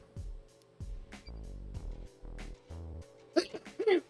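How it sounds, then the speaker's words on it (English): A game character sneezes in Detective Pikachu, a short burst amid game sound effects and bursts of music, loudest near the end. "that was a bad sneeze."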